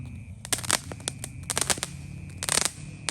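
A Vulcano 16-shot Roman candle box fires outdoors on a Ramadan night, sharp pops bursting in irregular clusters of quick shots over a low background rumble, moderately distant.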